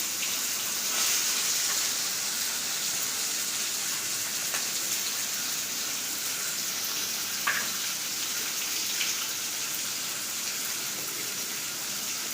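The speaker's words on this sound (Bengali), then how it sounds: "চিংড়ি মাছকে তো প্রথমে ভেজে নিতেই হবে। তো চলো চিংড়ি মাছগুলোকে ভেজে নিই। আমি চিংড়ি মাছগুলোকে দিলাম গরম তেলে।" Shrimp frying in hot oil in a pan, a steady dense sizzle that runs continuously and evenly throughout with a few small pops and crackles, close and moderately loud, with no talking.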